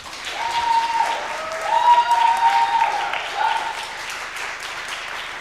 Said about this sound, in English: So let's keep clapping.